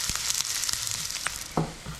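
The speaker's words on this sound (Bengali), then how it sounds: "পেঁয়াজটা মোটামুটি লাল লাল করে ভাজা হবে" Chopped onion frying in hot oil, a steady bright sizzle with a few soft clicks and one short scrape of stirring, close and alone.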